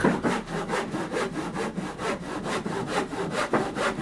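Steady back-and-forth hand sawing through wood for a porch, a rhythmic rasping stroke repeated about twice per second, close and continuous.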